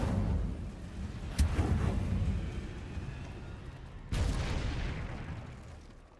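The Incendio fire spell in the video game Hogwarts Legacy lands as two sharp, booming bursts over a low rumbling background, the second followed by a roaring whoosh that slowly fades.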